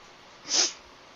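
One short, breathy sneeze sounds alone against a quiet hiss, close and fairly soft.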